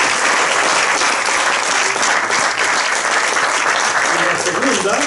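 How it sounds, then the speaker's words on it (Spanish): An audience at a talk gives warm, sustained applause for the invited guests, loud and continuous clapping from many hands filling the whole stretch. "le debo un cariñoso aplauso a nuestros convidados."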